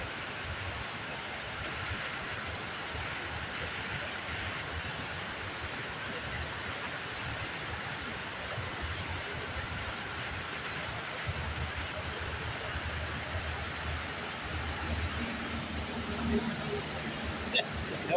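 Water pours steadily over a waterfall below a beaver dam, a continuous broadband rush that stays even and close throughout, with no talk over it.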